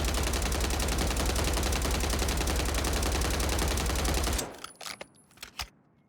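A Striker submachine gun without a grip attachment fires in a battle royale shooter on Rebirth Island, a long, loud, unbroken automatic burst of evenly spaced rapid shots that stops abruptly, followed by a few scattered fainter shots and near silence.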